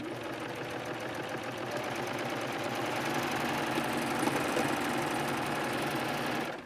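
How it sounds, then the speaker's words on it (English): A serger sewing machine stitches fabric with piping in a steady, continuous mechanical whir, close and moderately loud throughout, with no talking. "I'm just going to hold my fabric in place and turn the piping out of the way and continue stitching."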